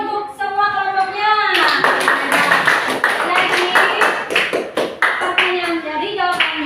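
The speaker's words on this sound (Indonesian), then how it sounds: "Tepuk tangan untuk semua kelompoknya." Students in a classroom applaud their groups with a dense, fairly loud burst of clapping that follows a teacher's voice and runs on under continued talking and children's voices.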